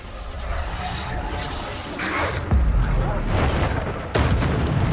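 Bombarda spell blasts in Hogwarts Legacy gameplay, deep booming explosions with a sharp burst near the middle and another near the end over a rumbling, busy game soundscape.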